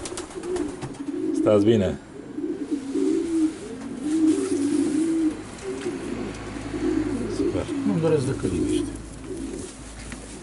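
Pigeons coo steadily in a loft among racing pigeons, a low repeated murmuring that runs throughout, while people talk nearby over it.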